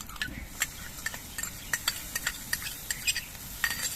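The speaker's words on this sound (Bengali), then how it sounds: "এবার এর মধ্যে দিয়ে দিচ্ছি কাজু বাদাম বাটা আর ফেটানো টক দই" Cashew paste and whisked yogurt are stirred into a frying masala, with repeated scraping and clinking strokes of a spoon against the pan over a low, soft sizzle, heard up close without talk.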